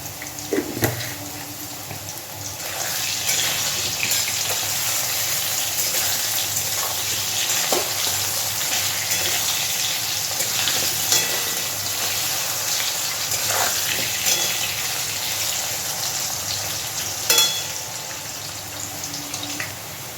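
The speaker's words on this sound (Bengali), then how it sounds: "আলুগুলো খুব সুন্দর করে ভেজে নিয়েছি, এবার তুলে নিচ্ছি" Potatoes fry in hot oil in a pan, a steady sizzling hiss with occasional light clicks and scrapes throughout; no talking.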